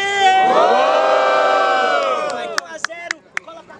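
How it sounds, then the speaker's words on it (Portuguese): Crowd at a student rap battle cheering and yelling in a sustained loud roar of mixed voices, then thinning out into scattered claps and sharp shouts near the end. "Quem gozou das rimas do Zed faz muito barulho."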